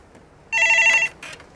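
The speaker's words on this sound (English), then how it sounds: "Oh, there's the phone." Telephone rings in a Disney Magic deluxe oceanview stateroom with verandah: one bright electronic ring burst of about half a second, then a fainter partial ring, alone in a quiet cabin.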